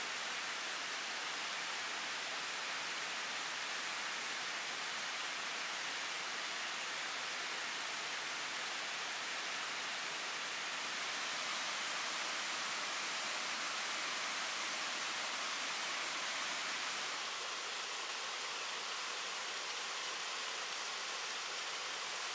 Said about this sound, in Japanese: 途中で、鉾岳大滝という滝を眺めることができます。